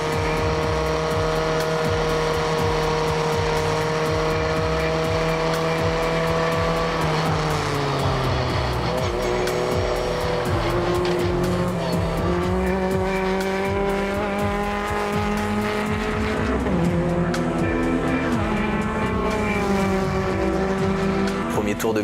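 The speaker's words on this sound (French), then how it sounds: "la voiture est tellement légère, on s'aperçoit que ça accélère quand même pas mal" Light 140-horsepower race car accelerating around a track, engine note climbing and shifting steadily through gears, loud and close throughout with continuous roar and rising pitch sweeps.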